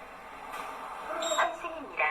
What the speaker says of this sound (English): Listen carefully for what they say on the ticketing machine when you transfer.